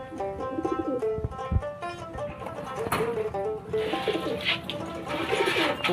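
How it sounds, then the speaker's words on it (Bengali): High-flyer pigeons in a loft, including a blue-tailed bird, give repeated soft throaty coos over a steady background hum, close and continuous. "এটা তো কবুতর নীলদম্বা"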